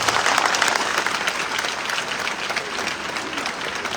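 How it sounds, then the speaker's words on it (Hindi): Loud, sustained applause from an audience at a district-level youth parliament event, dense clapping filling the whole stretch with a faint crowd murmur beneath. "भाई राहुल कुमावत के लिए जोरदार तालियां बजाइए।"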